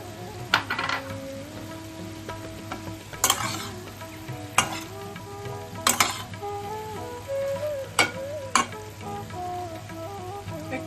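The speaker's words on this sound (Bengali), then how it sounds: "এবার আমি নুন হলুদ মাখানো চিংড়ি মাছটা দিয়ে দিচ্ছি।" Prawns coated in salt and turmeric fry with mixed vegetables in a pan. A low sizzle runs under scattered sharp clinks and scrapes of a utensil against the pan, heard up close with no voices.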